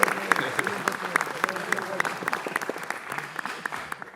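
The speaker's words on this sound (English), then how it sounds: "Let's give them all a big round of applause for their hard work." A crowd at a Norooz celebration at Los Angeles City Hall gives a big round of applause, sustained dense clapping with sharp individual claps standing out and a voice briefly heard beneath it.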